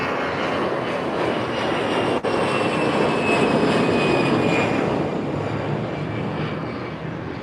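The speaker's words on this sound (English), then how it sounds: "I just missed a Eurowings A330." A Eurowings Airbus A330 airliner's engines roar in a steady, loud, broad rumble that holds throughout and eases slightly toward the end.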